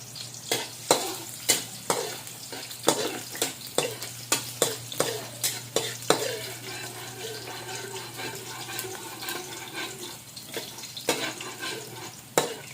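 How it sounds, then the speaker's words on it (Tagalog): Garlic dropped into boiling cooking oil for Canton guisado sizzles and crackles steadily, with sharp spoon-stirring clacks and scrapes punctuating the frying throughout, close by and fairly loud. "kumukulo na ang cooking oil. Ilagay na natin ang bawang."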